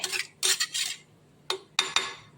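A metal spoon scrapes and clinks against a pot of fish curry in a few short bursts of stirring, close by and fairly crisp.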